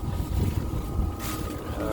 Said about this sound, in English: Here's a little video of my good old Chinese diesel heater.